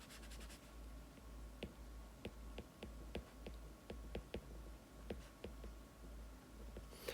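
Pen or pencil marks on paper while sketching a physics free body diagram, a quiet run of short scratchy strokes and taps, some in quick clusters, close and soft over faint steady room hum, with no talking.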